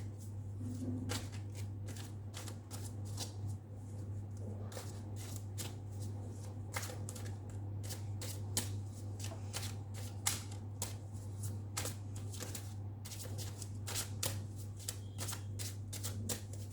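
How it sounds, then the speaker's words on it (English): A deck of tarot cards is shuffled close up, giving repeated crisp riffling flicks in an irregular rhythm over a low steady hum, with no talking. "We'll also take out 4 cards from the Ethereal Visions Tarot for the month of December."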